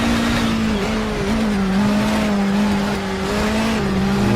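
A race car in Project Cars drives at speed, its engine a loud steady drone close in with small shifts in pitch and a faint tire hiss underneath, and no talking.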